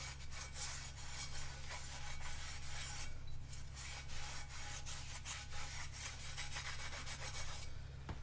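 A clean, dry washcloth rubs dust off a cast iron pan in repeated scrubbing strokes, faint and close, over a steady low hum.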